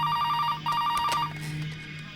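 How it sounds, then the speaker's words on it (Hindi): A telephone rings with two rapid trilling bursts separated by a brief gap, then falls quiet, over a low steady hum in a Hindi drama scene, with no one talking. "फोन बज रहा है"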